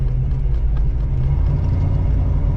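A 1985 Oldsmobile Cutlass with a new carburetor driving on back roads, a loud steady low engine rumble from inside the car, with no distinct shift audible.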